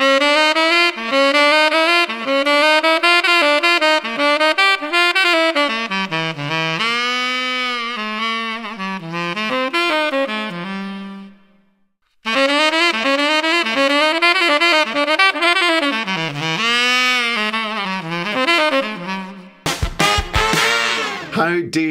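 A bright, breathy saxophone plays a flowing, swinging jazz phrase alone, pausing briefly before continuing, ending with a short burst of clattering noise.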